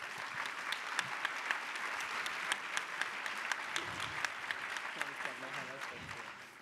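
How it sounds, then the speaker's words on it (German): An audience at a talk on Cradle to Cradle in cities and municipalities applauds in a steady, dense wash of clapping, with a few sharper individual claps above it and faint voices underneath. "Er sollte dafür nochmal einen großen Applaus bekommen."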